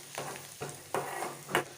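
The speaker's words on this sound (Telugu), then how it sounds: "దీన్ని కొంచెం ఫ్రై చేసుకోవాలి బటర్లో." Garlic, green chillies, cashews and chopped coriander frying in butter in a pan, a steady soft sizzle broken by several stirring scrapes, close and quiet, no talk.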